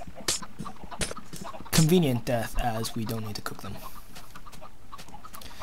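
Blocky Minecraft chickens cluck in a game farm with a water-and-piston chicken cooker, short clucks and clicks mostly buried under someone talking at length.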